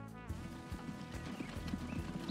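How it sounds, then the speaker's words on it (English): Horses pulling a tram in the Transport Fever 2 game, their hooves clip-clopping in a quick, steady trot over a low mechanical rumble, with faint whinny-like tones and no voices. "Those horses were having a heart attack, they had to run so fast."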